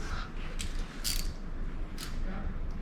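A 7/16 socket ratchet tightening bolts on a Jeep 4XE, heard as a few quick, bright clicking bursts over a steady background hum.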